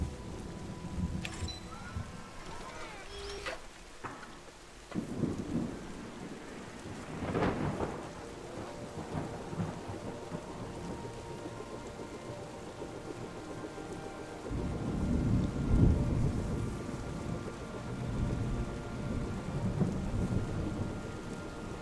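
Rain falls steadily in the video game Terra Nil while several rolls of thunder rumble through, one louder crack early on and a long low rumble later, all fairly quiet with no voices.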